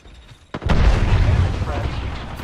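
Thermite grenade detonating in the video game Apex Legends: a sharp onset followed by a loud, sustained roaring burn with heavy low rumble that slowly fades over a couple of seconds.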